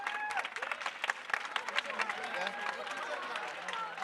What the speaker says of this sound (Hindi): इस बच्चे के लिए बहुत सारी तालियां बजा दें।